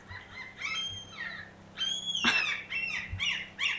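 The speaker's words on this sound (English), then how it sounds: "Can you hear the seagulls?" Seagulls call outdoors at sunrise on an April morning, a run of repeated nasal cries at moderate distance that keep coming in short bursts.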